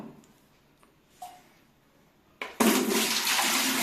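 Water is drawn from a planted aquarium tank, starting as faint trickles and a brief gurgle before bursting into a loud, steady rush of flowing water that continues to the end.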